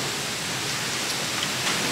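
Heavy rain falls just outside a door, a steady dense hiss of downpour with no breaks, fairly loud and close throughout.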